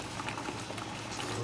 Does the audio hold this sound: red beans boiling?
yes